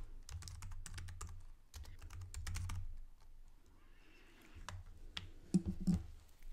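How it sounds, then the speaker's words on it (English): Text typed on a keyboard in quick bursts of close, light key clicks, with a short pause in the middle before more tapping resumes. "I'm going to come here, retype my text."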